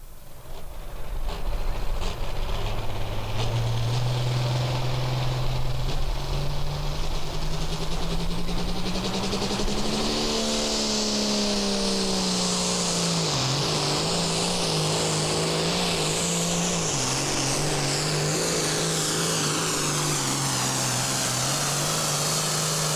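Loud engine roar of a tractor at a tractor pull, its pitch climbing steadily as it powers down the track, wavering and dipping midway, then holding high and sustained to the end.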